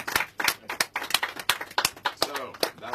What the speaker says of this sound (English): So we should clap for him